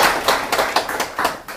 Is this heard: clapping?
yes